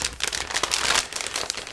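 Crinkling of a resealable plastic bag holding ICM 1/32 CR.42 model kit sprues being opened, a burst of close, crackling rustles and crumples.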